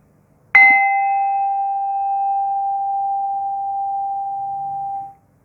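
A struck saron metal plate from a slendro gamelan rings with one clear sustained tone, while a hand is waved up and down above it. A bright attack decays slowly into a steady ring lasting about five seconds, heard alone.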